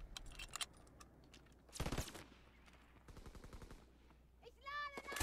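Gunfire from the Call of Duty WWII video game during a team deathmatch, heard as short bursts of shots with a louder volley near the middle, mixed with game sounds and a brief voice near the end.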